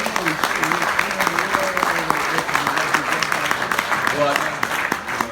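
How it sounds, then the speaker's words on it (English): Audience applause at a memorial gathering hosted in a brewing company hall, steady dense clapping with scattered voices and tonal background sounds mixed in, moderately loud throughout. "a great, really good hands of applause"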